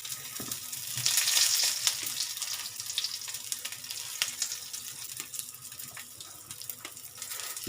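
Currywurst sausage browning in olive oil in a pan, a faint steady sizzle and crackle with occasional stirring clicks and a brief hiss swell, no talk.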